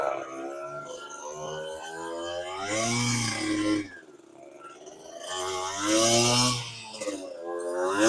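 A 1988 Yamaha DT50 two-stroke 50cc motorcycle engine revs up and down nearby, its buzzy whine rising and falling in two strong surges with dips between, no speech.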